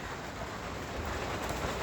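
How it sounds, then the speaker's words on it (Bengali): Winter rain falls in Niigata City, Japan, as a soft, even patter that continues without pause. "শীতের মধ্যে বৃষ্টি শুরু হয়ে গেছে"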